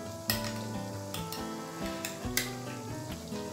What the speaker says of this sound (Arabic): هذه مره نحركها بالطريقه هكذا حتى تندمجوا مع بعضياتهم